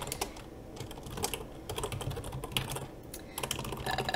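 Fast, uneven typing on a computer keyboard, keys clicking in quick bursts with short pauses, heard close and on its own without speech.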